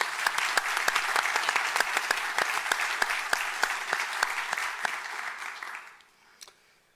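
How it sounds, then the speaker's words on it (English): An audience at a community forum for Tampa police chief finalists claps in a dense, lively burst of many hands that holds for about six seconds, then fades, leaving a few last stray claps. "Let's give her a round of applause for her service."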